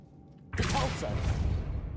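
A Repulso spell cast in the Hogwarts Legacy video game bursts in suddenly after a quiet half second, a loud, broad forceful whoosh that sustains with a dense rumbling body to the end.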